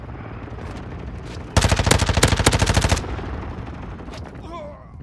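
Helicopter air support opening fire in Modern Warfare 2 during a desert sandstorm battle: a sudden, loud, rapid burst of heavy automatic fire lasting about a second and a half, then fading back into the battle noise.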